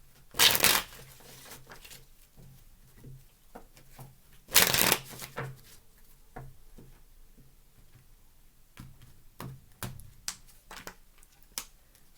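Crisp riffling bursts of tarot cards being shuffled, two loud shuffles followed by scattered light taps and snaps of cards being handled, close up with no talking.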